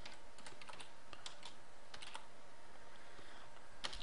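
Keys on a computer keyboard clack in quick bursts as a Linux terminal command is typed, close and fairly quiet, with short pauses between clusters of keystrokes.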